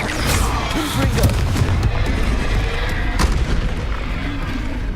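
Confringo blasting-spell explosions in the Hogwarts Legacy video game: a dense, loud, continuous wall of booming blasts and crackling impacts with no break.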